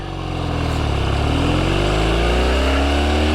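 A 1968 Triumph TR6C motorcycle being ridden, its engine loud and close with a steady throbbing roar that climbs in pitch as it accelerates.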